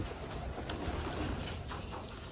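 Pigeons cooing softly among loft birds, low murmuring coos heard faintly against a noisy background, brief and fairly distant with no talk.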